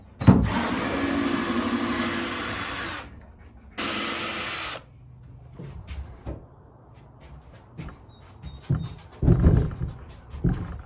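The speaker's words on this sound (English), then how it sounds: "we're going to unscrew these screws that are temporarily holding it together" Screws being backed out of shed shelving boards with a power drill: two long, loud bursts of whirring near the start, then scattered knocks and handling clatter of wood and tools.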